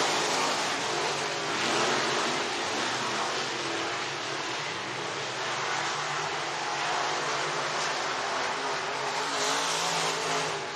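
Race cars at the IMCA Boone Speedway dirt track in Boone, Iowa, heading through turns three and four, make a steady, continuous engine roar with broad wash-like noise that holds throughout at a moderate distance, with no voices.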